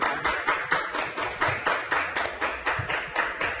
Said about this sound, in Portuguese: palmas para o Márcio!